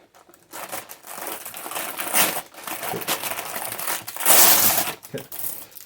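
Paper backing peeled off a tacky adhesive car door liner during a Sprite door installation, close crinkling and tearing rustles in uneven bursts, with a louder rip near the end.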